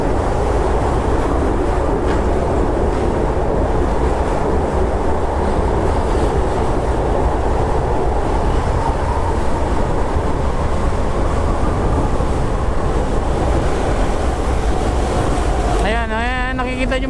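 An LRT light rail train passes on a Manila street as a continuous, loud rumbling roar that holds steady throughout, with a brief voice near the end.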